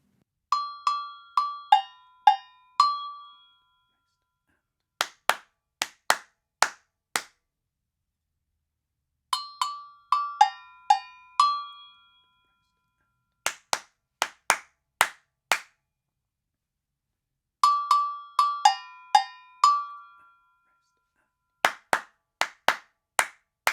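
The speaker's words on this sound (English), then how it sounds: "if you don't have a bell, you'll clap the rhythms" Call-and-response djembe-class rhythms: a cowbell-like bell pattern of bright ringing strikes alternates with answering phrases of sharp hand claps, each section a few seconds long, repeated three times, close and clean with no talking.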